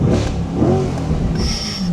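A stock C8 Corvette in Z mode accelerates hard, its engine roaring loud and close with a rising rev throughout.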